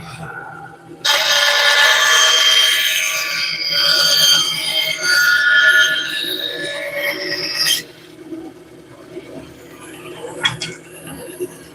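A power saw cuts big chunks out of a wooden workpiece in a woodworking shop, a steady loud whine lasting several seconds before stopping abruptly, leaving quieter shop noise.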